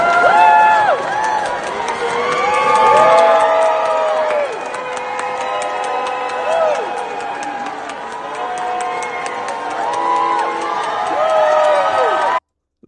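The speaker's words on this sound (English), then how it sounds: "Some boos, but the crowd drowned them out with more cheers." A large crowd at a political speech cheers and shouts loudly and continuously, with applause and scattered voices in a dense sustained roar; boos are not distinct.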